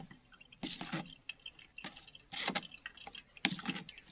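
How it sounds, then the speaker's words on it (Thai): Chili curry paste mixture strained for a liquid mealybug spray, in short dripping and pouring bursts, wet trickles coming in a few separate spells, close and moderately quiet. "เราจะกรองเอาแต่น้ำของเขา"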